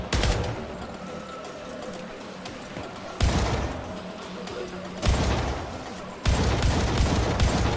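Wall-penetrating gun firing in Syndicate (2012), a sustained loud barrage of gunfire broken by three sharp heavy shot bursts, with brief faint talk beneath.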